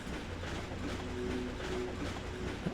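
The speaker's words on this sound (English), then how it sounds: "a hover train still makes chugging and tooting sounds like a regular train would" Hover train in the Ratchet and Clank video game, rumbling with a steady rail-like chug and brief tonal toots, fairly faint but continuous with no talk over it.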